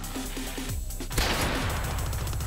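A burst of rapid gunfire in the Black Ops 2 video game, a quick string of sharp shots followed by one loud blast that leaves a dense rumbling roar.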